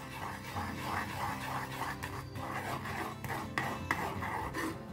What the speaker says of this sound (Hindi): लगातार इसे चलाते रहिए जब तक जो चीनी जो है ना कंप्लीटली मेल्ट नहीं हो जाता